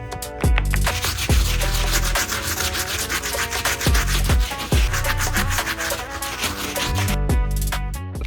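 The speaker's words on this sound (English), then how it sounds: "I'm gonna move on to the stiff bristle brush, reset my station, and hit the entire upper once again." Stiff bristle brush scrubbing the suede upper of a shoe, heard up close as loud continuous rasping strokes broken by a few short pauses and thumps.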